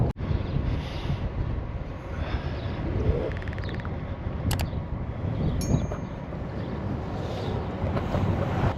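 Wind on a breezy day rumbles and buffets steadily across the microphone throughout, with a few brief high squeaks and clicks.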